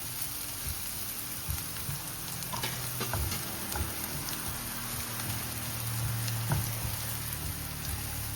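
Chopped garlic and onions frying in a pan, a steady soft sizzle with occasional stirring knocks and clinks, fairly quiet and close.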